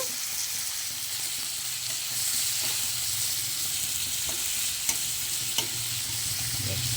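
A fish head cooking with watermelon in a pan gives a loud, steady frying hiss throughout, with a couple of brief knocks near the end.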